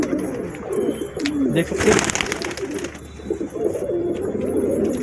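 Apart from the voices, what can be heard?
pigeons cooing while being fed roti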